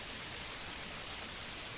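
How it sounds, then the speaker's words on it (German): Steady rain in the medieval strategy game Manor Lords, a dense, even hiss of falling drops that holds constant for nearly two seconds, with no voices. "muss das denn jetzt gerade regnen?"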